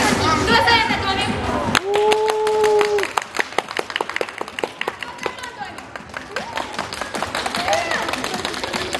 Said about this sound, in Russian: Мы показываем вот этот вот вам домик, вы хлопаете.